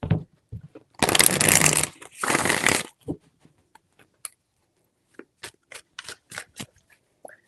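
Tarot cards being shuffled by hand in two long riffling bursts, followed by a scatter of crisp taps and flicks as the deck is squared and cut; close and clear with no talk.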